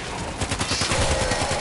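Rapid bursts of gunfire and explosions from the video game Warframe crackle in quick succession, loud and busy throughout with no voices over them.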